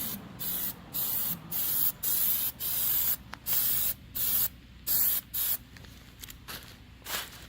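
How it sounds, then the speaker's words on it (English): Aerosol spray paint hisses in repeated bursts of about half a second, with short gaps between, as a first light coat is sprayed onto car grills from every side. The bursts are close and steady. "Just keep the first coat nice and light, but get everything all the way around."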